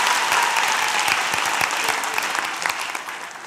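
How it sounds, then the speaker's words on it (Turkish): A television comedy studio audience breaks into sustained applause, dense clapping at steady loudness that fades slightly toward the end. "Atölyemizin güzel kızlarına ayrı bir alkış da alabilir miyiz?"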